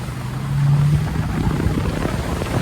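A Bonito 760 boat powered by a Mercury 400 V10 outboard accelerates slowly onto the plane, a deep engine drone climbing in pitch under heavy wind and water rush, loud and close.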